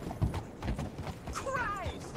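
Hooves clip-clop in a steady rhythm as a horse is ridden in the Red Dead Online video game, with a short whinny near the end.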